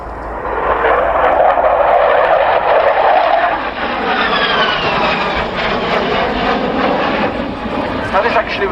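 A Dutch F-16 fighter jet flying a display at an airshow roars loudly and continuously overhead, its engine pitch sweeping as it passes, with a commentator's voice audible under the noise.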